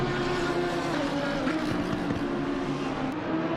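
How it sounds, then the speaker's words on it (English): VS Racing by Ballast Esports GT race car engine in a sim racing event at Spa, a steady sustained high-revving drone with a strong tonal whine, loud and close, holding its pitch with slight shifts throughout. "Just listen to that car sing."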